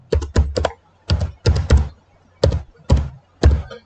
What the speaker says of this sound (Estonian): Kustutame selle lõppu ära ja trükime siia oma perekonnanime.